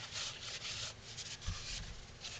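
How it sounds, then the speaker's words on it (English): Johnson's paste wax is rubbed onto the inside of a wooden ventriloquist dummy, a close, scratchy rubbing in repeated strokes with a brief knock partway through and no talking. "I'm going to take some Johnson's paste wax, and we're going to put some on the inside"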